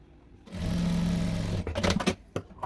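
A sewing machine stitches a princess-cut blouse in one steady, close burst of about a second, followed by clicks and handling noises.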